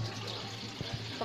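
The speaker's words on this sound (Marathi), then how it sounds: "भांड्यात मी पाणी घेते," Water poured into a cooking vessel in a home kitchen while making flatbread dough, a soft, brief trickle and splash, faint and alone.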